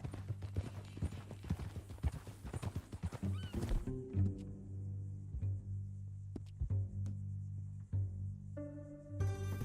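Hooves clip-clop steadily up close, broken by a loud horse neigh and snorting, with a low music-like hum running underneath; from the video game Red Dead Redemption 2 on PS4.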